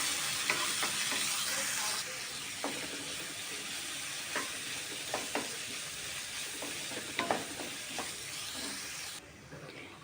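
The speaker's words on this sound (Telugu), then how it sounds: "ఆనియన్స్ కొంచెం గోల్డెన్ బ్రౌన్ వచ్చేంత వరకు వేయించుకోవాలి." Thinly sliced onions sizzle and fry in a pan while being stirred for jeera rice, a steady close hiss broken by scraping stirs, with no talking.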